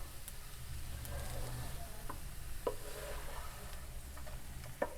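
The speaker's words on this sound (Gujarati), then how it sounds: "આ રીતે હળવા હાથે મિક્સ કરી લઈશું." Potato curry (bataka nu shaak) being gently stirred in a pan: a soft, steady sizzle with faint scraping, a few light clicks of the spoon against the metal, and no talk.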